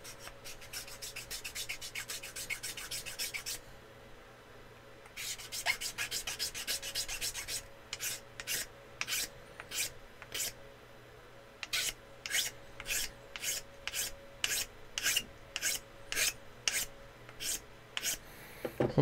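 A hand file rasps on wood, first in a few long continuous scraping passes, then in a fast, even series of short, crisp strokes, close and clear with no talking.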